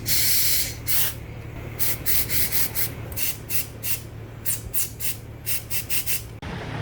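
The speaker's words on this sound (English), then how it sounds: "I'm going to blow air in right here and see if I have any plug to there." Compressed air blown through the brake line block of a 1966 Mustang, repeated short hissing bursts in an irregular rhythm over a steady low hum, close and clear.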